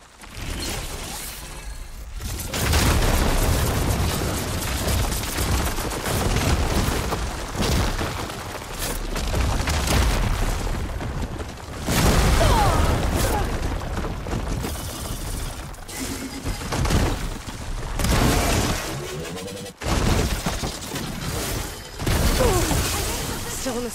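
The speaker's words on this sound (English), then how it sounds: "Hopefully the Denok will fire a few shots from that ballista." A ballista fires shots during a fight in Horizon Forbidden West amid a loud, chaotic din of mechanical clanks, heavy booms and shattering crashes that surge in waves, with brief lulls between.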